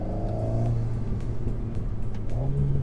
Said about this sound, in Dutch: En dat geluid, dat is echt een van de hoofdattracties van deze Alpine A110S.